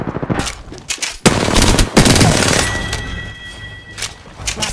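Rapid automatic gunfire rattles in Apex Legends, loud close bursts of shots with brief pauses between volleys and game effects in between.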